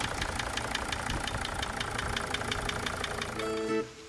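A Sprinter van engine idles with a steady, rapid rhythmic knock while one injector is unplugged and a cylinder has a compression fault, close and continuous, ending with a brief higher tonal whine.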